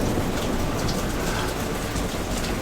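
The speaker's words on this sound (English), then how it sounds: "it's raining and thundering outside" Steady rain pours outside on a back porch during a thunderstorm, a dense even hiss with no distinct thunderclap standing out.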